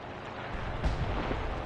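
Muffled, rumbling artillery fire booms in the World War II shooter Enlisted. It comes as a heavy low thud over continuous battlefield noise, with a second, weaker impact following shortly after.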